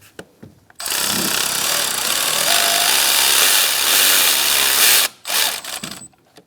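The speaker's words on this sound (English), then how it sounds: "Now we're going to tighten up our other two bolts using the short socket with an extension for this one." Power tool, likely an impact or electric ratchet on a socket with extension, runs loud and steady for about four seconds, tightening thermostat housing bolts on a 2012-2018 Ford Focus 2.0L, with short clicks and clatter before and after.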